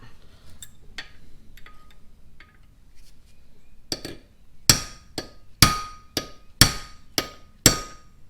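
A hammer strikes metal as an LS engine rocker arm trunnion is punched out. After a few faint taps, six or seven sharp, ringing whacks follow one another about a second apart, close and loud.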